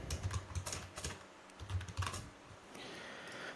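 Quick bursts of typing on a computer keyboard, close and clicky, with irregular keystrokes and short pauses before a softer steady hiss.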